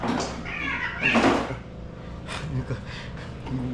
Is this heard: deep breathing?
no